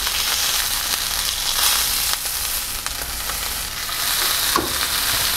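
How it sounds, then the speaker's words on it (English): Deer tenderloin ends sear in a hot pan with a steady, close, dense sizzle and crackle that holds at an even level throughout, with no voices. "Don't forget to sear your ends."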